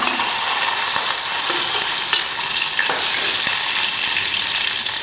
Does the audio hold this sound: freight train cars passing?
no